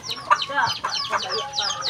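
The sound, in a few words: chickens clucking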